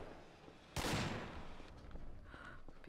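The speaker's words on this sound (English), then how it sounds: "People are getting shot." Gunfire in the video game Garry's Mod, one sharp loud blast that decays into a rumbling tail with fainter scattered pops afterward.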